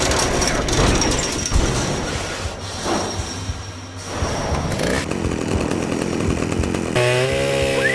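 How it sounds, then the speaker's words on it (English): A chainsaw in the video game Manhunt runs loudly and continuously, its rough buzzing engine surging and dropping over several seconds amid other game noise, with a brief whistling tone near the end. "Cash uses Piggsy's chainsaw to enter Starkweather's room"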